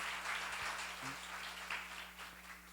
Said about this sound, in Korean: 박수를 한번 주세요.